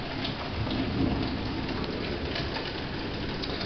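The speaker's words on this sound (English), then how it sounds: "I love electrical storms." Electrical summer thunderstorm with heavy steady rain pouring down and a low rumble of thunder, loud and continuous throughout, with no talking.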